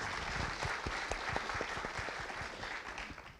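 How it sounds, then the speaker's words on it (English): An audience at a school awards evening guest panel gives a round of applause, a full, steady wash of many hands clapping at moderate volume that tapers slightly toward the end. "round of applause"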